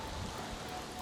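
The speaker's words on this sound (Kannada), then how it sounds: "ಮಳೆ ಹೆಂಗೆ ಬರ್ತಾ ಇದೆ" Rain falls steadily on a monsoon trek, a soft, even hiss of drops on surfaces with no voices.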